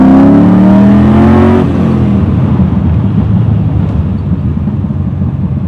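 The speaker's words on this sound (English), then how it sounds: "Cruising in second gear at probably 30 miles an hour" An LS-swapped BMW E30 cruises in second gear at about 30 mph, its V8 droning loud and close with a low steady rumble that settles after a brief rise in pitch.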